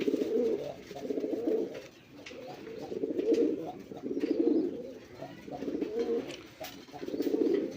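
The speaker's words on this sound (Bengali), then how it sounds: "বন্ধুরা এখানে একজোড়া কবুতর আছে ইন্ডিয়ান বোম্বাই" A pair of yellow Indian Bombai pigeons coo in close, rhythmic bursts, about six throaty rolling calls rising and falling in a regular pulse, loud and near.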